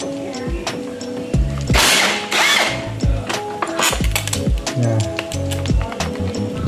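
Impact wrench at work on bolts of a Honda PCX 160 scooter, giving loud, close bursts of rattling hammering in short repeated runs, with a mechanical whine and tool clatter between them.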